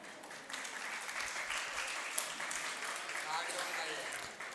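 A sparse, soft round of clapping from a small part of the audience at a Hindi sermon by a Jain monk, faint and somewhat distant, lasting several seconds.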